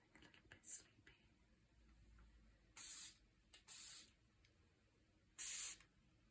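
Several short hissing pumps of a This Works Stress Check sleep spray scented with jasmine and lavender, spaced irregularly with a couple of quick puffs and three longer bursts, close and soft in a quiet room.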